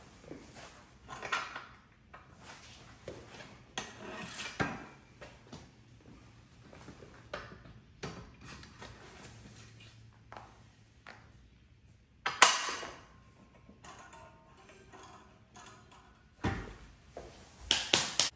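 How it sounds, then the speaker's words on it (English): A Powertec leg extension and leg curl attachment is fitted into a home gym workbench, giving scattered metallic clanks, taps and scrapes of varying loudness with quiet pauses between them, and no talking. "I think it's worth showing how easy or how hard it is to get the leg extension leg curl in and out of the workbench."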